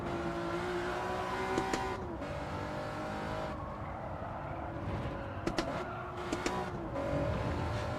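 Race car engine in a racing video game, a steady droning motor with shifting pitch running throughout, with brief sharp tire squeal chirps near the middle and end.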